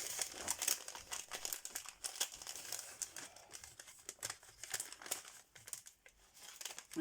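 Crinkly plastic pouch being cut open with scissors, sharp rustling and crackling bursts repeating close by, with no voices.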